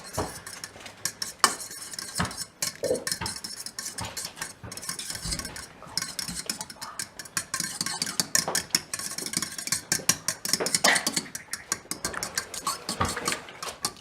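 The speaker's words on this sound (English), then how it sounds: "And then we're gonna whisk" Ingredients are whisked together in a bowl, a fast continuous metallic clatter and scrape of the whisk against the sides, close and busy for the whole stretch with no talking.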